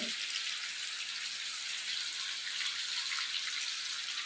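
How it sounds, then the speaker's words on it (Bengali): Steady, dense hiss of heavy rain pouring down outdoors, a continuous wash of noise with no breaks, heard from inside a kitchen, with no talking. "এইদিকে প্রচণ্ড বৃষ্টি হচ্ছে বাইরে"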